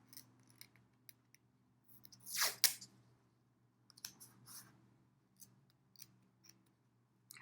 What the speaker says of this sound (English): I'm just going to tape it down with some painter's tape here so it doesn't slide around on me